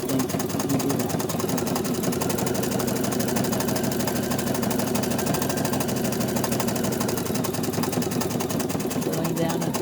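A sewing machine stitches steadily around a gentle curve, a fast even mechanical whir running the whole time at close range, with a voice talking over it.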